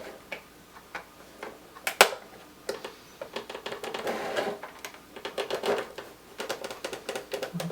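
A dull blade drawn slowly along a seam line, making a series of small scratchy clicks and ticks that come in uneven bursts, close and fairly quiet, with no talking.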